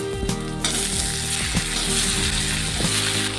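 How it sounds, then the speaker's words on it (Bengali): Potatoes and spring onion stalks go into hot oil with lightly fried onion and green chilli, giving a loud, steady sizzle with repeated scraping and clicking stirs throughout. "এখন আমি পেঁয়াজ কলি আর আলু দিয়ে দেবো।"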